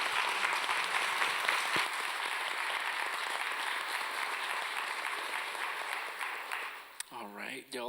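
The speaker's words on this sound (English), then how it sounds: "Please give them a big round of applause." Big audience applause for musicians closing out an evening performance, dense sustained clapping and crowd noise filling the room, thinning toward the end as a voice begins speaking over it.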